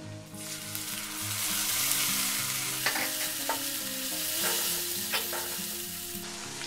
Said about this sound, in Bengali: এবার আমি দিয়ে দেবো আদা রসুনের পেস্ট